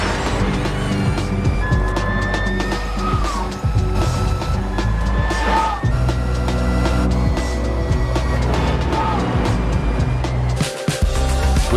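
A 2021 Harley-Davidson LiveWire electric motorcycle accelerates with a steady electric whine and rising tones, layered over loud, continuous road and wind rush.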